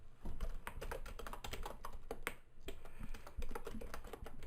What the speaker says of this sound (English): now I'm going to write something. So I'm going to add text, say Jarvis family